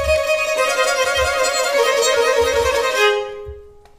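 Two violins play a Baroque piece together, bright sustained bowed lines interweaving over a soft low pulse before fading out, with no talking.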